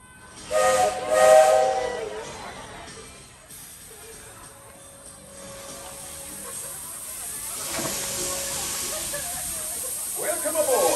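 Steam train whistle on the Magic Kingdom railroad, heard as a loud harmonic blast near the start over steady steam hiss, with another softer sustained tone and people talking in the background.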